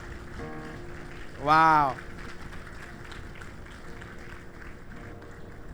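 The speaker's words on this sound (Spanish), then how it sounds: "Dale ese aplauso más fuerte al Señor." Steady, dense clapping from a church congregation fills the whole stretch, with a voice rising briefly in an exclamation above it and other voices faint underneath.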